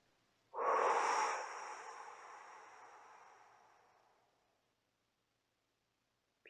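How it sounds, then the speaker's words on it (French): A person exhales through an open mouth in one long, loud, breathy release that starts abruptly and fades slowly over about four seconds, with no talk. "à l'expire, on ouvre la bouche et on se débarrasse de tout ce dont on n'a pas besoin"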